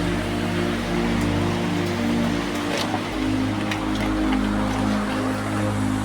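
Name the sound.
heavy rain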